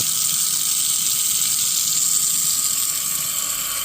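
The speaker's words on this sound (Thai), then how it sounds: "ตอนนี้ปั๊มเราทำงานแล้วนะครับ" Well water from a home pump system gushes steadily from a pipe, a loud continuous broadband rush with no pauses, close to the listener.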